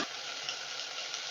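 Mint, coriander and ginger sautéing in a pan give a steady, close sizzle and crackle with faint stirring, heard alone without talk.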